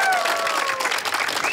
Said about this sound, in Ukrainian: Ваші оплески Миколі, місце продано.